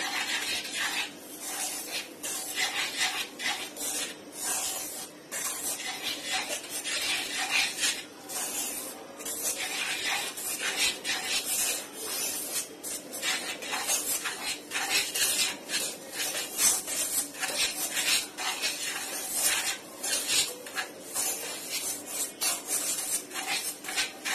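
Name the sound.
stirring dry ingredients for Japanese chocolate cotton cake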